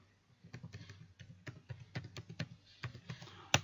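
Someone types a database command on a computer keyboard, giving a quick, close run of light key taps in an irregular rhythm with a sharper final keystroke.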